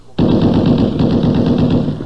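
Rapid machine-gun fire in a radio drama, a loud close burst that starts abruptly and rattles on continuously.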